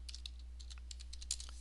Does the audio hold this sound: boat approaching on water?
no